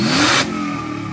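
A car engine fitted with a straight-through exhaust muffler revs hard and loud nearby, then drops back to a steady raspy idle-like drone for the rest of the moment.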